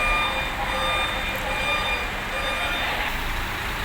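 Steady repeating reversing beeps from a Scania truck being unloaded sound over a loud, continuous yard rumble of traffic and machinery.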